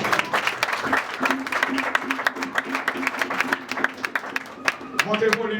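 A church congregation at a wedding service applauds, with steady, lively clapping from many hands while a voice carries over the top near the end.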